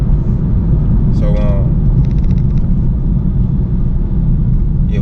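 A truck driver's vehicle rolls steadily down the road, its low engine and tyre rumble constant and close, with a few faint brief higher tones above.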